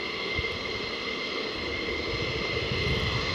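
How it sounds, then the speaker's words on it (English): F-15 Strike Eagle or F-35 fighter jet on afterburner at RAF Lakenheath: a continuous, steady roar with broad rumbling noise, heard from a distance with no voices. "Last little bit of heavy duty afterburner action."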